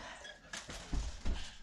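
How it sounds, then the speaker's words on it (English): A few muffled barks from a neighbor's dogs come faintly through a door from a distance, two or three quick woofs in a short burst. "My neighbor's dogs are going crazy with my dog"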